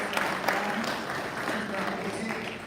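Applause for Steve, a Rotary club member, at a Norman Rotary meeting: a moderate, steady patter of clapping from a room of members, with some voices mixed in underneath.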